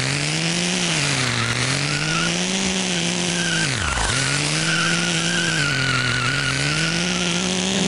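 A radio-controlled car in the racing game Re-Volt whines loudly and steadily through a corner, its motor pitch dipping sharply and recovering midway, with tyre scrubbing and skid noise layered over the continuous buzzing drone.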